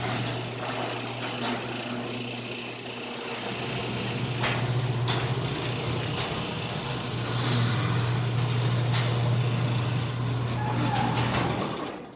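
A motorized garage door for a parking space opens smoothly, giving a continuous mechanical hum and rumble that builds slightly in loudness over about twelve seconds, with no talking.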